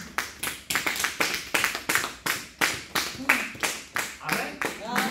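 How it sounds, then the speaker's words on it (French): Church congregation clapping in a steady, rhythmic beat about twice per second to acclaim the word of God, loud and close, with voices calling out between claps. "Acclame la parole de Dieu"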